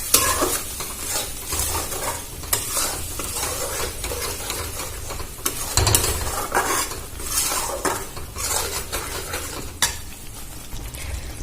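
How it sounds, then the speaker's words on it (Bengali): Yogurt frying in a pan for a Bengali doi potol curry, with loud continuous sizzling and frequent stirring and scraping of a metal spoon against the pan, steady throughout with no talking. "এবার এর মধ্যে আমি দইটা অ্যাড করে দেব। ভালো করে দিয়ে ভেজে নেব।"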